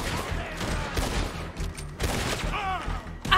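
Gunfire in a video game comes as rapid bursts of shots with a couple of heavy booms, close and loud over a few seconds, with a faint voice mixed in.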